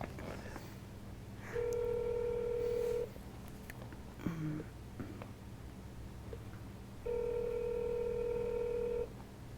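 Phone ringback tone on a real estate cold call, heard as two long, steady rings separated by a quiet pause with faint line noise.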